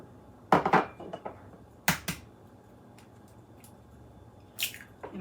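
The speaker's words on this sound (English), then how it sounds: "So we've got 8 eggs that we're going to get into our blender." Eight raw eggs with deep orange yolks slipping into a blender jar, giving a few wet plops and squishy splats in short bursts with quiet pauses between.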